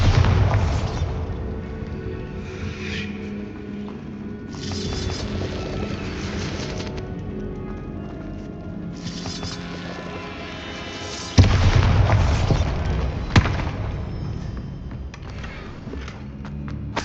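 The Bombarda blasting spell goes off in Hogwarts Legacy, with deep rolling booms over the game's ambience and two sharp, louder blasts near the end.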